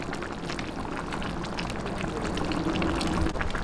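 Beans go into a simmering pot of chicken pochero with carrots, sweet potato and saba banana, giving a continuous bubbling, pouring hiss that swells slightly toward the end.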